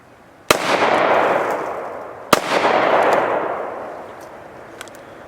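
Two sharp, loud gunshots from a Double Tap Defense tactical pocket pistol firing 9mm rounds, spaced about two seconds apart, each followed by a long ringing outdoor echo that slowly fades.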